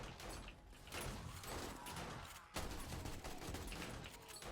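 Rapid bursts of gunfire in the survival video game 7 Days to Die, dense overlapping shots with a short pause partway through, then more firing.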